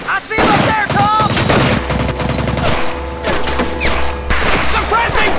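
Rapid machine-gun bursts and rifle shots from the 2004 World War II shooter Medal of Honor Pacific Assault on Makin Atoll crackle loudly and nearly continuously, with shouted voices mixed into the firefight.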